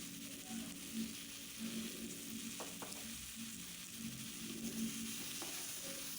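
Steady sizzling of onions and tomatoes frying in a pan, with occasional stirring scrapes and soft clicks throughout.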